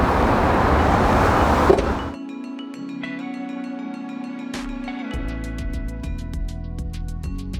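Trunk of a 2018 BMW X3 M40i closing: a whirring powered motion followed by a soft latch thump, then a quiet electronic hum and a series of light clicks and chimes.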